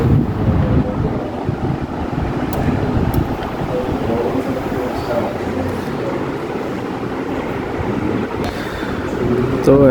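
Cool wind blowing steadily against the microphone outdoors, a loud continuous buffeting rush that a voice breaks through.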